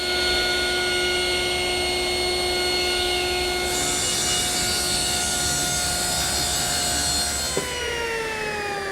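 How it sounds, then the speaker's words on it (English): Table saw running steadily as it cuts a taper along a wooden desk leg, a constant loud whine with a brief knock near the end as the cut finishes and the tone drops. "just bring it to the blade where I want the taper to start"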